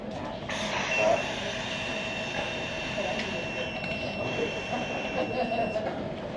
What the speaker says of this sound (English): this is the professional breathalyzer that Scott's never seen used before